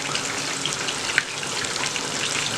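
Aubergines cooking in a pan for moussaka give off a dense, even sizzle at close range, steady and fairly loud from start to finish, with one brief tick partway through.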